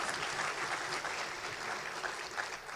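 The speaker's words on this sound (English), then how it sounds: "Give him a round of applause." Audience applause at an awards ceremony, a sustained wash of clapping hands that holds steady throughout, moderately loud and filling the room, with no talking over it.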